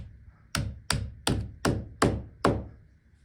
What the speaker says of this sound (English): I'm just gonna use a hammer and I should be able to knock them all in